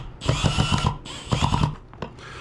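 A power drill drives a screw through vinyl siding into an old asbestos shingle behind it, with two long, loud bursts of whirring and grinding separated by a brief pause and a short final spurt.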